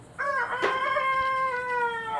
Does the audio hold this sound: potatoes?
no